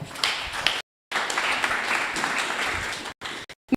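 An audience at a church education day claps for a speaker named Mark, with dense applause broken by brief dropouts and a short gap near the end.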